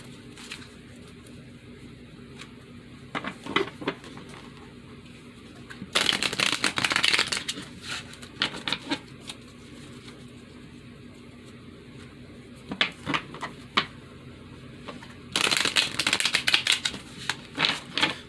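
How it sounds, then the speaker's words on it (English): A deck of playing cards being shuffled close by, with two loud riffle bursts separated by quieter taps and card handling sounds, and no voice. "I have shuffled the cards already, but I'm going to shuffle them again."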